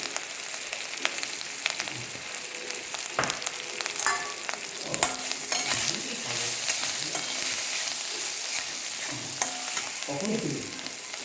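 Cumin seeds sizzle and crackle in hot oil in a pan, a dense, continuous frying hiss with scattered pops and scraping stirs, close up and with no talking.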